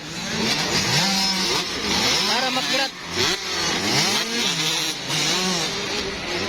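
Motorcycles revving hard during a race, continuous loud buzzing engine whine with repeated rising and falling pitch sweeps as riders accelerate, while a voice talks over it.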